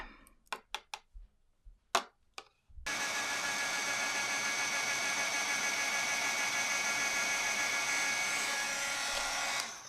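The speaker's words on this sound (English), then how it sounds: "I will get my heat tool warmed up and melt it" An electric heat embossing tool melting white embossing powder on a stamped card, switching on after a few light taps and then blowing a steady, loud whirring hiss that continues unbroken for about seven seconds.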